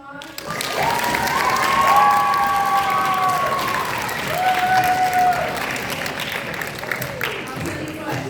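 Audience at a high school symphony children's show breaks into a sustained round of applause, with dense clapping and some cheering filling the room while a voice speaks over it.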